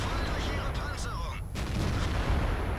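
Heavy tank cannon fire booms in World of Tanks, a Tier X battle among tanks such as the Waffenträger auf E 100, Leopard 1 and T57 Heavy, with a voice talking over the blasts.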